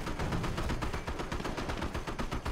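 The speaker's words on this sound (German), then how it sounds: "Sniper schießt wieder." Rapid bursts of gunfire sound from the real-time strategy game Company of Heroes during a sniper engagement, a fast rattling series of sharp cracks repeating steadily at moderate volume, with no talking over them.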